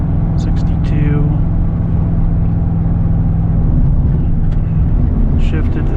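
A 24-year-old 8.1 gas V8 truck tows 18,000 pounds, the engine droning loud and steady from the cab through a shift to third gear, with someone talking over it.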